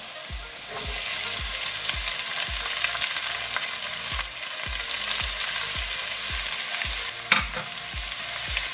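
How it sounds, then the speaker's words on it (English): Onions fry in a pan with a constant loud sizzle, punctuated by regular low knocks from stirring against the pan, close up and without talk. "So it's nearly getting brown, so I'm just gonna add the onions now."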